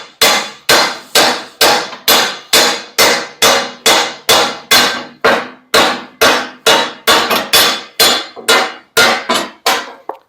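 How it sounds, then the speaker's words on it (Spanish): A hammer pounds a welded leaf spring assembly in a fast, even rhythm of about twenty sharp metallic strikes, each ringing briefly, loud and close, with no talking. "Con el martilleo aliviamos un poco esas tensiones."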